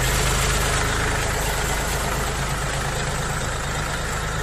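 A brand-new 40-horsepower mini tractor engine with zero engine hours idles steadily up close, a constant low rumble with a faint knocking chug and no other sounds.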